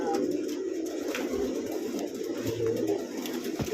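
Bouchard pigeons in a loft, soft repeated cooing under a steady hum of background noise, with a few faint voices nearby.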